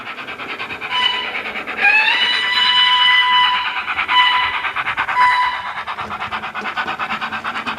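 An OO gauge model train rolls steadily over freshly cleaned, weathered Peco track with concrete sleepers, giving a continuous close rumble with high, whining tones that rise and fade.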